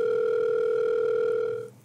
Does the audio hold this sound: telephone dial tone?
yes